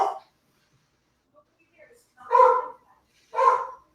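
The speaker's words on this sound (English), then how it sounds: "I think there's a dog fight going on out there." Dogs fighting outdoors, heard as two loud barking bursts in quick succession after a mostly quiet stretch with a few faint yelps.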